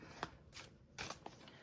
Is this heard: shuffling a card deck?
yes